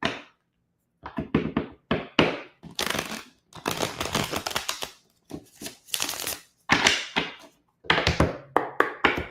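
Tarot cards being shuffled close up, a run of crisp riffling and tapping bursts separated by short pauses, no voices.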